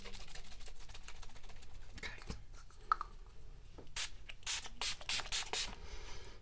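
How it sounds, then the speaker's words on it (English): Several quick hissing bursts of a makeup setting spray mist on a face come in a short series near the end, after some soft rubbing and scratching sounds. "I'm going to go in with the Wet n Wild In Love with Cocoa setting spray."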